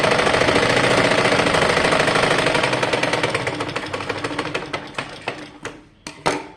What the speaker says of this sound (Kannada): ಈಗ ಸ್ಟಿಚ್ ಮಾಡೋಣ.